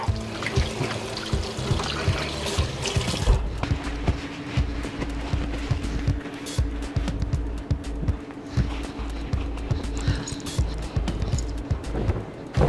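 Water runs steadily from a tap with splashing and rubbing sounds of hands being washed beneath it, close and continuous.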